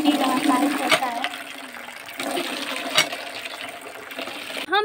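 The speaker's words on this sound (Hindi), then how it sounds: "तो मैं नलके पे थोड़ी पानी भर लूँ।" Water being filled at a hand-pump tap outdoors, a steady splashing gush with periodic rhythmic surges from the pump strokes, fairly close, with a brief squeak near the end.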